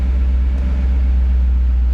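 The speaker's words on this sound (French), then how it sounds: "c'est un V8, ça fait un beau bruit" A V8 car engine idles steadily nearby, a deep continuous rumble holding even throughout with no revving.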